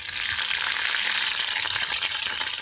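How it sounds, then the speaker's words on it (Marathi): Green chillies fry in hot oil with mustard seeds in a heated kadhai, giving a dense, continuous crackling hiss that holds steady and fairly loud for the whole stretch, with no voices. "मिरच्या चांगल्या तेलात घालायच्या, मिरच्या चांगल्या तेलात नरम होईपर्यंत हलवायचा"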